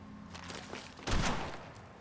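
Gunfire in Fallout 4, a few soft shots followed by a louder close burst around the middle that decays into echoing crackle, with no talking.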